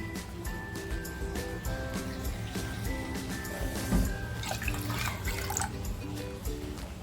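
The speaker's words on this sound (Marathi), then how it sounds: "पाणी टाकतीये" Water runs and splashes into a metal pressure cooker holding lentils, a continuous trickling pour with a rising tone as it fills, fairly close.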